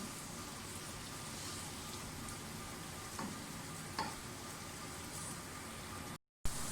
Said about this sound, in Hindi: प्याज को अच्छी तरह से फ्राई कर लें, मीडियम ब्राउन करेंगे हम प्याज को।